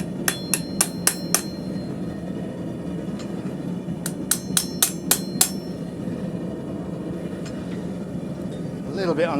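A hammer strikes hot steel on an anvil while a hook knife is forged, ringing metallic blows in two quick bursts of about five strikes each, with a low background rumble and faint talk.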